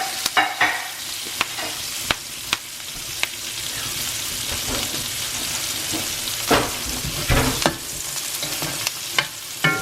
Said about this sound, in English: Let's get these onions cooked.